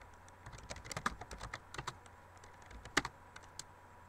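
Quick, light keystrokes patter on a laptop keyboard in bursts, with a few harder taps standing out, close and quiet, with no talk.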